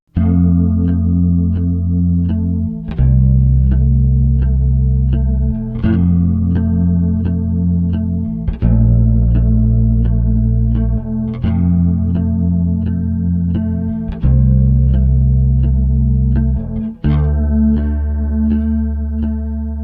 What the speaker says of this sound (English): Let's find out how the weight of the pedal affects the sound with a beautiful, strong chorus setting.